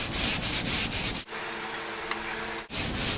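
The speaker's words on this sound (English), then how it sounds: "going back and forth to each side like I'm doing, that helps you do the cross sand" Hand sanding a blocked-out surface, cross sanding back and forth to each side: rhythmic rasping strokes, close and steady, with a brief pause midway before the strokes resume.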